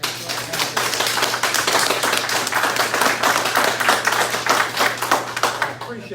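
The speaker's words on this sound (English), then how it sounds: "I appreciate your applause" Audience applause at a state corrections and criminal justice oversight task force meeting, a steady dense burst of clapping from many hands lasting several seconds, fairly loud and close with a low hum underneath.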